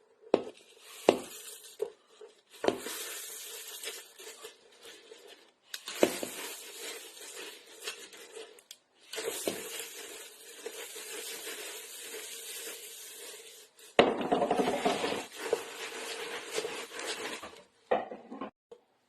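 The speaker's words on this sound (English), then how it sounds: "Adding in the Rice Krispies, you should do this a little bit at a time while stirring" Rice Krispies are stirred bit by bit into a concentrated sugar mixture, producing a scraping, crunching rustle that comes in several long stretches broken by short pauses, with no talking.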